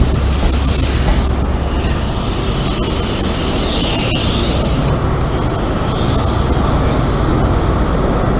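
A passenger train runs steadily along the rails with a loud, continuous rumble and rolling wheel noise. Higher squealing and hissing swells in twice along the way, and no one speaks.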